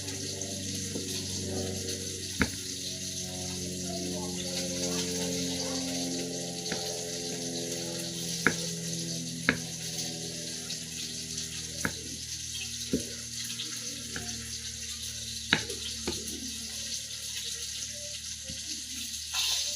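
Tilapia frying in a pan, a steady soft sizzle and bubbling hiss running throughout with occasional sharp pops and crackles, fairly close and even in level, with no talk.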